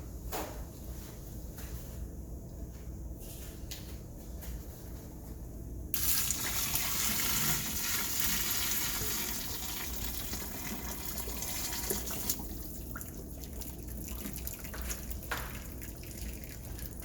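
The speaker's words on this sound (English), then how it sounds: "what we're gonna go ahead and do is pour it over the chicken" Hot water pours and splashes over raw chicken for several seconds, a broad rushing gush that starts abruptly and cuts off, with quieter handling noises before and after.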